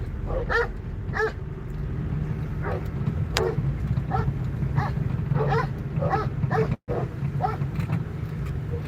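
A dog barks in a regular series of sharp calls, somewhat distant, over a steady low rumble of outdoor background noise.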